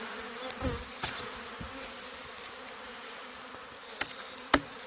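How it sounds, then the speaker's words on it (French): Bees buzzing near a beehive during the spring honey flow, a faint steady hum with a few sharper close passes and small knocks. "c'est une abeille qu'on a passée"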